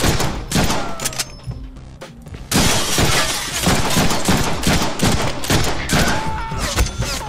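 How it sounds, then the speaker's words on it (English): Rapid, dense gunfire from the Deadpool video game on PC: sustained bursts of loud shots with impacts and shattering, briefly thinning before erupting again, heard close. "Think on that while I shoot you."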